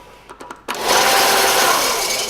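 A Ryobi belt sander in a workshop starts after a few faint clicks, then grinds loudly and steadily with a dense, even whir that carries on to the end.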